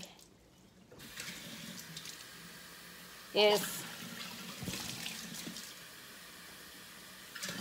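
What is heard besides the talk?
water being poured into a hookah jar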